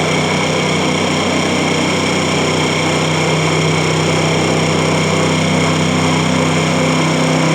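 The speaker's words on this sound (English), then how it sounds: "Now we increase the RPM of our setup." A gyroscopic couple experiment setup's electric motor running up in speed, a loud, constant close whirring drone with steady tonal hum and no talk.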